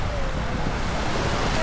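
Sea surf at a Samal Island beach, a steady broad wash of waves mixed with wind buffeting the microphone, loud and continuous without distinct breaks.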